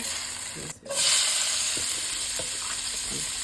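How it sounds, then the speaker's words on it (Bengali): Onions frying in leftover fish oil in a pan while making salmon curry, a steady close sizzle and hiss with a brief stir or clatter near the start, no talking. "এখন আমি মাছের তেলেই পেঁয়াজটা ভাজবো।"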